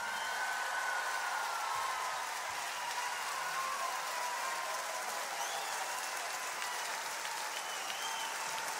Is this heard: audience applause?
yes